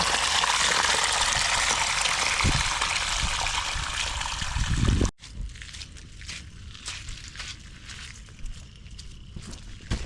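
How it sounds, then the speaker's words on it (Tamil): Rainwater pours into a house like a waterfall, a loud, dense, continuous gush close by that stops abruptly halfway through. Quieter dripping and trickling follow. "பாருங்க எங்கள் வீட்டில் அருவி வந்துருக்கு"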